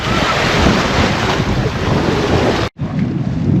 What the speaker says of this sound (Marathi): धरणाच्या लाटात ऐकतो आहोत